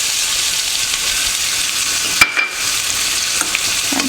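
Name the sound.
onions frying in pan for daal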